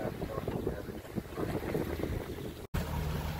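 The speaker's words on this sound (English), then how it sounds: "now we're motor sailing under jib and about 2000 RPM, doing just over 7 knots" Sailboat motor sailing under jib at about 2000 RPM, making a steady engine drone mixed with rushing wind and water noise, with one brief dropout near the end.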